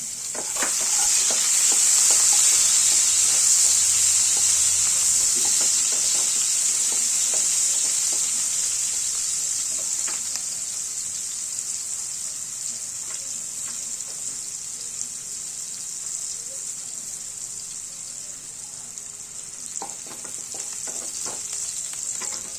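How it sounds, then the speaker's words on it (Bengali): Onion with chopped ginger and vegetables stir-frying for vegetarian chow mein: a loud, steady hiss of sizzling oil close by, easing slightly over time, with scattered clicks and scrapes of stirring. "পেঁয়াজটা একটু হালকা লাল হয়ে গেলে আমরা আদা কুচি আর সবজিগুলো দিয়ে দেবো"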